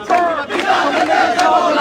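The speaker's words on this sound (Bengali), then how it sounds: "এই মুহূর্তে বিক্ষোভ মিছিল দিচ্ছেন ঢাকা বিশ্ববিদ্যালয় ক্যাম্পাসে" Students chant slogans in unison while marching in protest across the Dhaka University campus, a dense, loud crowd of voices rising and falling in rhythmic bursts.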